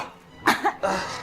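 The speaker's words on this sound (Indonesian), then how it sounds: "kamu berisik banget sih pakai batuk-batuk" A person coughs nearby, two or three sharp, close coughs after a quiet start, followed by a rougher breathy sound.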